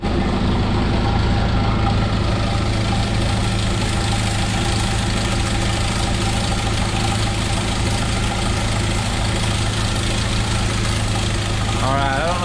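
A 1997 Jeep Wrangler 2.5L engine runs loud and close with a steady idle drone and rattling timing chain noise throughout, a voice talking over it.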